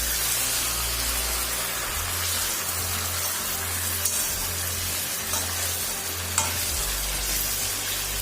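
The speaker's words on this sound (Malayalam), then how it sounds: "വേവുന്നതിനനുസരിച്ച് തിരിച്ചും മറിച്ചുമിട്ട് ഫ്രൈ ആക്കിയെടുക്കാം" Food sizzles and crackles steadily in a hot frying pan while pieces are turned over, a dense rain-like hiss with a low pulsing hum underneath and a few sharper pops.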